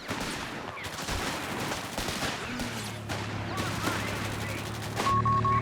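Machine gun fire from a Company of Heroes 3 battle, including a Panzer upgraded with a machine gun: steady rattling bursts under a constant battlefield din at moderate level, with a short beeping tone near the end.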